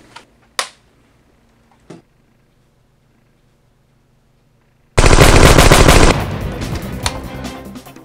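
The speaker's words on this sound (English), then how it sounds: "Open fire! Open fire!" A shootout erupts as a loud, sustained burst of rapid automatic gunfire follows a few isolated sharp clicks and thumps separated by silence.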